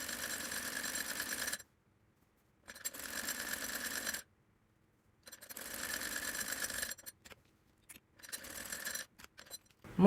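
A sewing machine stitches the folded cuff of a child's fatua, running in several loud bursts of steady whirring separated by short silent pauses.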